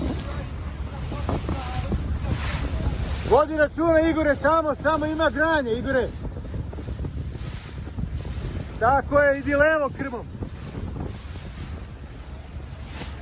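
Strong gusting wind, over 50 km/h, roars across the microphone on a river where rowing boats are moored and vibrating, with bursts of shouted talk between crew members.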